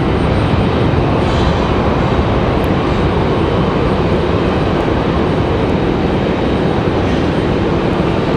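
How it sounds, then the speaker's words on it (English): Airliners, a Copa and a JetBlue jet, taxi out toward the runway at Raleigh-Durham International Airport, making a steady, continuous broadband jet rumble that holds even throughout with no voices. "Copa and JetBlue slinking their way out to the end of the runway"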